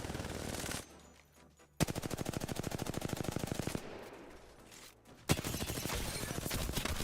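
Rapid automatic gunfire from a weapon in Apex Legends, loud sustained bursts of fast shots separated by brief pauses, with no talking.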